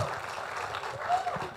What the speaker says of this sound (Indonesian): Tepuk tangan untuk Kak Renda.